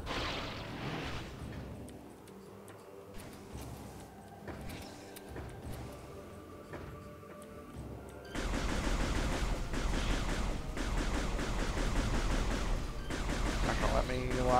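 Gunfire in the sci-fi shooter Metroid Prime 3: Corruption, with bursts of weapon blasts and impacts that grow into a loud, dense barrage of shooting and explosions partway through, while a player talks over the action.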